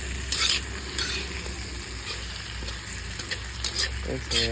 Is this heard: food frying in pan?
yes